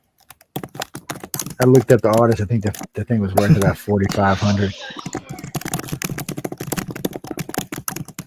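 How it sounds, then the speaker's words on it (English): Rapid clicking of typing on a computer keyboard, close and steady, partly under someone talking at first and then continuing alone as a dense run of light keystrokes. "what's that sound? Typing?"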